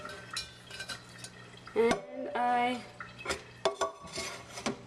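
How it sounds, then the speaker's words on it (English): A pot being rinsed out with water to clear debris while making henna paste, with clinks of metal and splashing liquid in short bursts, and a brief spoken word at the start. "And I rinse it out to get rid of any extra debris."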